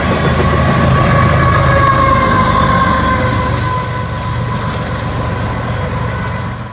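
Coal cars of a Union Pacific train led by a GEVO locomotive roll by close and loud in a steady, heavy rumble with metallic wheel ring, easing slightly toward the end.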